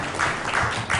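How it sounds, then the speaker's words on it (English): A conference audience at a Goa mobile governance event briefly applauds a panelist, a soft, steady patter of clapping. "A round of applause for Mrs. Neela Mohanan."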